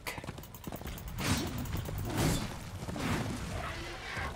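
Horse hooves clip-clop in the Darksiders 2 video game as a rider sets off again, a steady galloping rhythm of hoofbeats mixed with game ambience and swooshing effects, moderately loud throughout.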